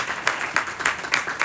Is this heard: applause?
yes